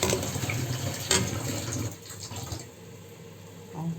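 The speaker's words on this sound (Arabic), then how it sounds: "انا بحط ميه من الحنفيه عادي" Tap water from a kitchen faucet runs into a cooking pot for boiling rice, a steady splashing flow that is fuller for the first two seconds and then settles into a lighter, quieter stream.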